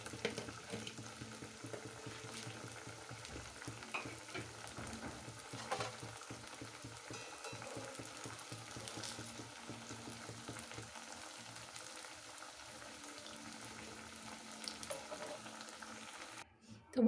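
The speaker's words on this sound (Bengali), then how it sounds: "আঁচটা মিডিয়াম আছে ভেজে নিলেই ভালো হয়, কেননা বেশি আঁচ বাড়িয়ে দিলে এটা মচমচেটা হবে না।" A snack of boiled potato and flattened rice shallow-frying in a pan over medium heat, giving a steady, quiet sizzle with faint stirring clicks throughout and no talk.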